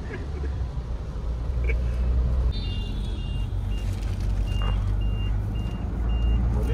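A truck goes by on a rainy day, its engine rumbling steadily under a repeated high reversing beep, with the constant wash of rain and road noise throughout.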